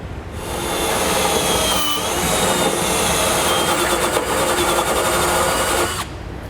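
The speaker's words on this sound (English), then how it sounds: "use our hitch as a template to drill our forward mounting locations out." Steady high-pitched power drill whine drilling mounting holes into the frame of a 2017 Subaru Outback, running continuously for about five seconds, close by and loud, with no talking.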